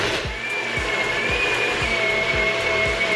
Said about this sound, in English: We can flip it over and blend.